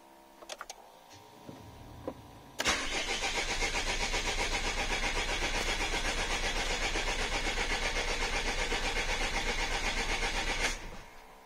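A Renault 2.2 dCi diesel engine with a weak battery, after a few clicks, cranks steadily for about eight seconds with a loud, even rhythmic churning, then stops without catching.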